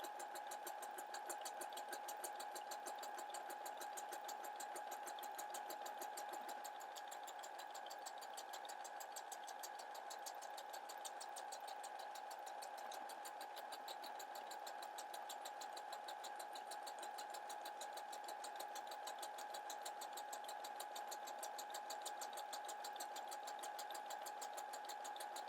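A home sewing machine stitches buttonholes through jacket fabric backed with interfacing, a steady, unbroken motor whir with rapid needle clatter running without pause throughout.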